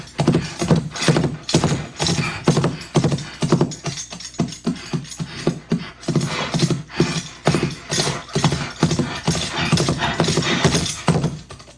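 Foley-studio horse sounds performed for film: steady rhythmic clip-clop of hooves with jingling bridle and tack and occasional snorts, close and fairly loud throughout, with no talking.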